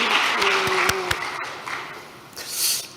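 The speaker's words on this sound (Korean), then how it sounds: "우리 주동훈 회장님께 큰 박수를 부탁드립니다" A church congregation applauds an honored chairman, scattered clapping that swells and then thins out, with a few sharp individual claps near the start and brief voices mixed in.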